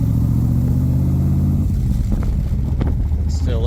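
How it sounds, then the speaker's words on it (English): A 1965 Shelby Cobra 427R engine idles with a low steady rumble while warming up, then briefly revs up and settles, heard close with some wind buffeting. "Still letting the car warm up."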